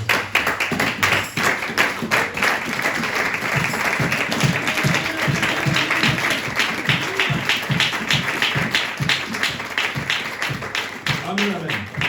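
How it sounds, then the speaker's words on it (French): A church congregation applauds and claps steadily throughout, dense rhythmic hand claps filling the room, with voices calling out under the clapping. "Nous allons nous lever et acclamer les rois de Dieu."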